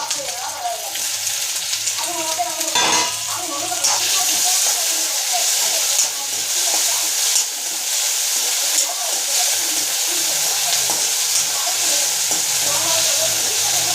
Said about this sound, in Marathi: त्याला चांगलं परतून घ्यायचं व्यवस्थित लाल क करपू द्यायचं नाही